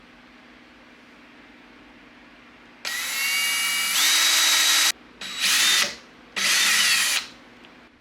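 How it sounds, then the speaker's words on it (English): A power drill bores a hole into a spacer part for an 1860 Henry rifle, with three loud whining bursts, the first long and two shorter ones after a pause, alone and close. "Now to drill a hole to make a stud."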